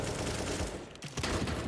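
Rapid video game gunfire from a professional esports match between Entropiq and ECSTATIC, heard as a dense, continuous volley of shots that pauses briefly near the middle before resuming at full intensity.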